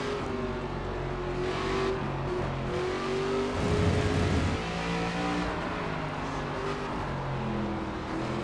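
Race cars in the NASCAR 25 video game roar around the track, with a steady engine drone and a swelling surge as a car pulls out of the pits close alongside.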